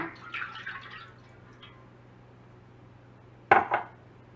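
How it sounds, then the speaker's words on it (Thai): A brief pour of coconut cream into a brass pan, followed by a sharp clink of metal and a short splash, in a quiet room with a low steady hum. "ใส่หัวกะทิลงไปค่ะ"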